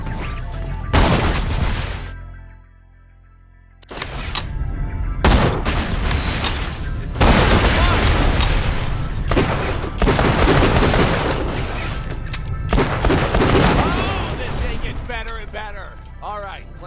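Loud bursts of rapid turret and weapon fire in Borderlands: The Pre-Sequel, repeated barrages with booming impacts, broken by a brief lull early on, while voices talk over the shooting.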